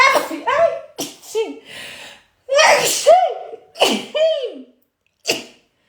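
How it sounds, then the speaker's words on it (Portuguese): Several sharp sneezes burst out one after another, loud and close, with short quiet gaps and breaths between them. "eu vou espirrar"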